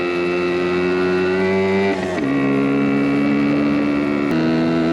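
A 1974 Suzuki TC125 two-stroke motorcycle rides on the road, its buzzy engine loud and close, with a pitch drop and recovery midway as it shifts gear.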